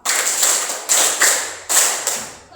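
An audience in a seminar room claps or taps in unison on cue, several crisp collective bursts in an uneven rhythm, each fading quickly into room echo with no voices.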